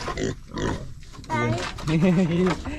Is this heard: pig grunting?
yes